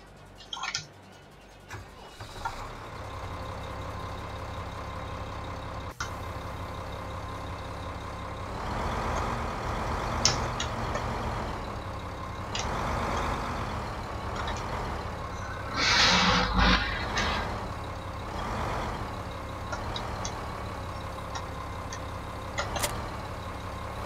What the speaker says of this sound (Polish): I jedziemy na miejsce docelowe, gdzie chcemy, aby ten traktor z tą uwijarką stał.